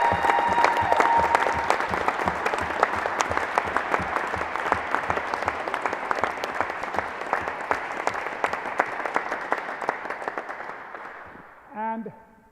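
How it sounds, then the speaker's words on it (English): An audience at the final of a ladies' world doubles rackets championship breaks into sustained, dense applause. It holds steady for several seconds, then fades out, and a brief voice follows at the end. "I think we all ought to give a huge round of applause"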